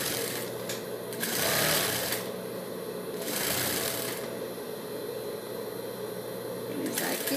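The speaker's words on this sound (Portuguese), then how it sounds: "Costurei toda a volta, né?" A sewing machine runs steadily, stitching around the edge of a fabric face mask. The motor hum rises in a few louder bursts as the needle speeds up, then settles back to an even drone, alone with no talking.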